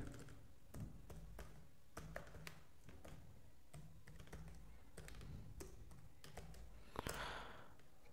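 Typing on a computer keyboard to enter a Gmail address, a steady run of close, crisp key taps with short pauses between bursts and no talking.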